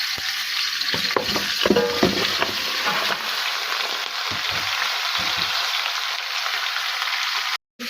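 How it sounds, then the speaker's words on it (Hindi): Beef chunks frying in a pot of hot oil with cinnamon and cloves, a loud continuous sizzle with scattered crackles and a few stirring scrapes early on, no talking. "इसे हमने इतनी देर तक पकाना है कि हमारा बीफ ब्रेड से वाइट हो जाए।"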